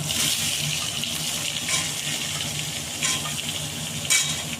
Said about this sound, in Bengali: এবার নুন হলুদ মাখিয়ে রাখা বেগুনগুলো দিয়ে দিচ্ছি।